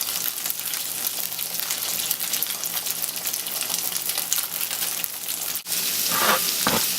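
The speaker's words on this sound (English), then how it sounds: "we're going to add it to the oil. Drop it into the oil." A meatball for stuffed tomato stew fries in hot oil, a steady close sizzling crackle that holds throughout, with a brief clatter near the end.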